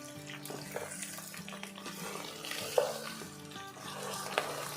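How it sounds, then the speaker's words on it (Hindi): Beef pieces fry in oil in a pot for a karahi-style dish, giving a faint continuous sizzle with soft stirring clatter throughout. "ये देखिए अच्छी तरह मैंने गोश्त को कर लिया फ्राई"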